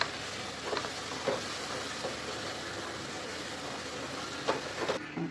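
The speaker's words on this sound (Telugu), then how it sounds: "ఈ ఆనియన్స్ వీటికి సరిపడినంత వేసి ఒకసారి మళ్ళీ బాగా మిక్స్ చేసుకోవాలి" Onions with chili powder frying and being stirred in a pan for pav bhaji, a steady close sizzle with a few scrapes of the spoon, no talking.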